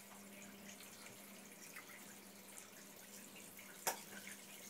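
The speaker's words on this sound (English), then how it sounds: "let's try hot water on the tap." Hot water running from a kitchen or bathroom tap, a steady faint hiss throughout with one brief clatter near the end, no talk.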